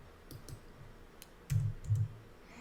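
Mouse clicks and keyboard typing at a computer while working in Revit building design software: a few light, sparse clicks and taps, then two slightly louder keystrokes close together, fairly near and otherwise quiet with no talking.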